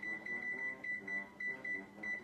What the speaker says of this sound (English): So we're gonna set that timer